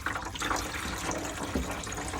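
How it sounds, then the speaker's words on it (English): Hot water from a boiler is poured slowly down the back of a surfboard-shaped Nu Venture Nu Surf unit, making a steady close splashing and trickling stream for about two seconds with no talk. "slowly pour it down the back"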